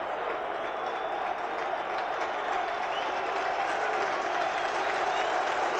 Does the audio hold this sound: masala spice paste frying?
no